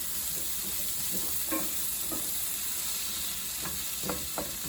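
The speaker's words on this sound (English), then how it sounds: "And you're going to saute these." Garlic and onions sauté in a pan for a chicken stuffing casserole, giving a steady soft sizzle with a few faint scrapes and taps of stirring.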